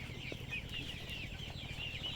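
Sick chickens with colds clucking steadily at a farm, several birds close by in continuous low chatter with no talk over them.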